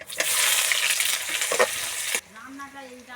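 Onions frying in oil in a wok after bay leaves went in, for a chicken and potato curry: a loud, steady broadband sizzle with stirring scrapes for about two seconds, then it drops abruptly to a quieter background with a faint tonal sound.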